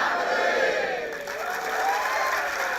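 A university auditorium crowd at Mercu Buana shouting a cheer chant together, a loud sustained roar of many voices with a brief dip midway before swelling again.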